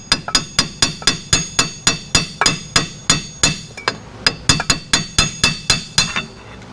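Slide hammer pulling the rear axle out of a 1962 Corvette, a quick series of sharp metallic clanks in steady rhythm, with a brief pause before the strikes resume, close and loud.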